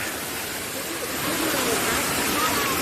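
Steady broadband rush of a jungle waterfall at the last tier of the falls on a mountain trek, a loud continuous roar of falling water close by that swells slightly toward the end.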